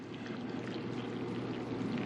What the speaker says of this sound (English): You can get a pot of coffee out now. It's got a really nice handle, but these things are tricky to pour.